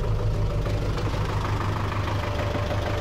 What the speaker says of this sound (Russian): трактор сейчас прогревается